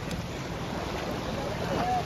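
Village river running high and fast after heavy rain, a broad continuous rush of water blended with steady wind buffeting the microphone, loud and close throughout.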